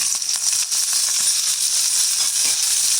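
Kepula flowers and leaves frying in a pan of oil with cumin, a dense, steady hiss of sizzling that stays loud and even, with a few faint stirring scrapes underneath.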